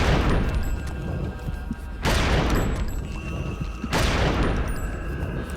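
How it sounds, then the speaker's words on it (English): Heavy, loud booms repeat roughly every two seconds as creatures explode in the video game Eternal Darkness: Sanity's Requiem, with each blast dense and rumbling and little pause between them. "They're all gonna explode. And I almost died as a result of their explosions."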